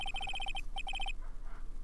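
A cell phone ringtone in the Phoenix Wright: Ace Attorney – Justice for All game, a bright electronic trill of rapid repeated beeps in two bursts with a brief gap between them, over a steady low background hum.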